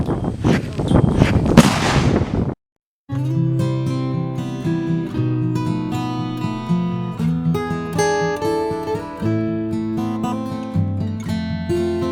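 A black powder cannon or musket fires at a living history event in Cass County, a single loud, broad blast in the opening seconds followed by a short silence, then steady music plays for the rest.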